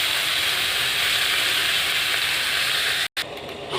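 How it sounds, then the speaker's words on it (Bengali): Vegetables dropped into hot oil in a wok with a bay leaf and five-spice tempering, giving a loud, steady sizzle and hiss that cuts out briefly near the end before resuming, no voices. "কড়াইতে তেল দিয়েছি, একটা তেজপাতা ফোড়ন দিলাম আর একটু পাঁচ ফোড়ন দিয়ে আমি সবজিগুলো ছেড়ে দিচ্ছি।"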